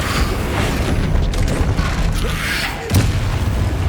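A Flipendo spell cast in Hogwarts Legacy on PS5: a punchy boom with a sharp thump over a steady rumble of combat noise.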